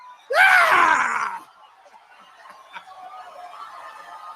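A man lets out a loud, rising, hoarse scream at a campaign rally, about one second long, followed by a faint crowd murmur.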